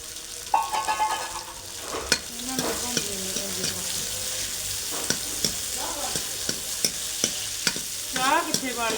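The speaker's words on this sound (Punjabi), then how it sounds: "ਤੇ ਜੀਰੇ ਨੂੰ ਲਾਵਾਂਗੇ ਭੁੰਨ ਹਲਕਾ ਜਿਹਾ ਤੇ ਹੁਣ ਪਾ ਦੇਣੇ ਇਹਦੇ ਚ ਆਪਾਂ ਪਿਆਜ਼" Cumin seeds and two medium onions cut into long slices fry in a pan, giving a steady close sizzle broken by scraping stirs and spatula clicks.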